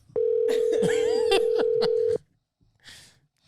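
A steady phone calling tone runs for about two seconds with brief clicky bursts and faint voices layered over it, then it stops, leaving quiet with a short murmur.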